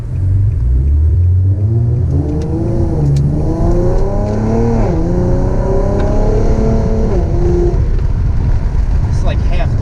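Modified Infiniti G37 sedan running E85 pulls at half throttle, its engine note climbing through the gears in loud, close rising sweeps with a brief dip between shifts.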